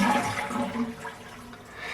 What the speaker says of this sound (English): you want to come over here and actually flush the toilet to drain out all the water in the tank.